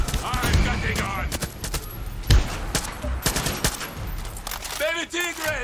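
Rapid gunfire bursts crackle through a Far Cry 6 combat scene, mixed with game sound effects and character voices talking over the shooting.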